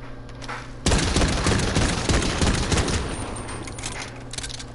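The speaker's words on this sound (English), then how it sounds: "I hear gunshots." A sudden loud burst of rapid gunfire in the video game Modern Warfare, a dense fusillade of shots that erupts close by and then rattles on and fades slightly over a few seconds.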